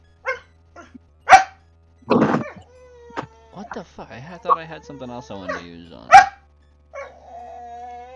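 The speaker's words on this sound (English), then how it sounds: "your barking doesn't help" A dog named Chloe barks a few times, short sharp yaps scattered between people talking around a tabletop game session.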